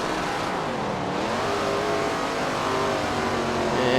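Race cars accelerating in SRX The Game at the Madison Lake track, a steady, loud engine drone with rising pitch as the cars climb through the gears, continuous and close with no talk.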